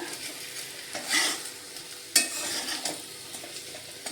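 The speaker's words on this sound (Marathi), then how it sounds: "पूर्ण सर्व मसाला आपला बटाट्याच्या कापला लागेल असा मिक्स करून घेऊया" Fried potato slices with red chili powder and turmeric are stirred in a pan, producing close scraping strokes over a faint sizzle, with a sharper clatter near the middle.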